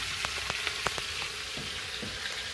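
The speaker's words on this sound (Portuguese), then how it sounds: "Cortemos o alho ali, agora vamos deixar ele fritar um pouco." A steady, hissing sizzle of chopped garlic frying in a pan over a wood-fired stove, with a few light clicks and taps of a utensil early on.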